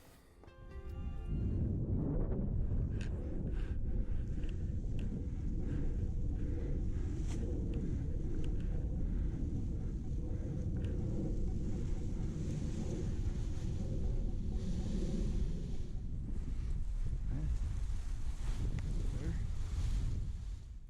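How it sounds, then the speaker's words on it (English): Strong wind roars across the microphone during a paragliding flight with an Advance Lightness 3 harness, a loud, constant buffeting rush that lasts the whole stretch. "still quite a bit of wind right now"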